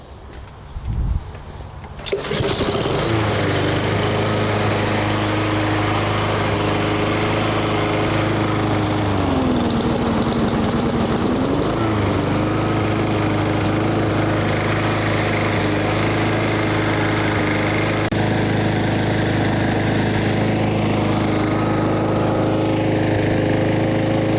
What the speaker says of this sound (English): I'll start it with the choke full on and it should come back.